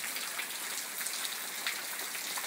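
Steady rain patters down in a dense, continuous hiss, close and even, with no talking.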